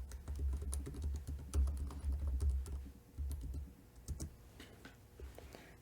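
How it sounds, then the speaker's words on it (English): Someone types an IP address on a computer keyboard, giving a quiet, close run of irregular key clicks and taps with short pauses between bursts. "type the IP address you configured earlier"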